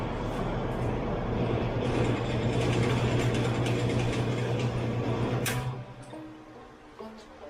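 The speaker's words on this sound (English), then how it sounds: "And now we'll give it another test." A 70-year-old Homart Sears electric fan runs loud and close with a whirring, rattling mechanical drone and a steady motor hum, then winds down after about six seconds to quieter, fading ticks.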